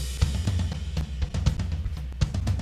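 Logic Drummer SoCal drum kit plays a steady groove, kick and snare hits in a regular rhythm with cymbal wash, fairly quiet and close, no talking.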